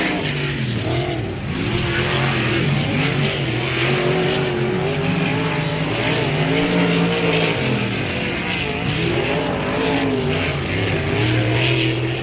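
A race car driving on an oval track during a BOSS Series race, the No. 77 car, its engine a loud continuous roar that rises and falls in pitch through the corners for the whole stretch, with no talking.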